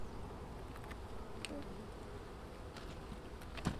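Honey bees on a winter hive frame holding a little honey, a dense low buzzing swarm hum throughout, fairly faint, with a few brief clicks and handling knocks near the hive.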